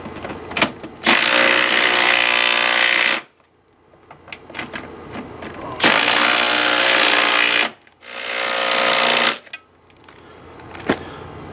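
An impact wrench fitted with a 1/2 inch socket drives in the pump bolts on a 1999 SeaDoo. It fires three loud, close bursts of harsh rattling hammering, each lasting about one to two seconds, with quieter clanks and handling noises between them.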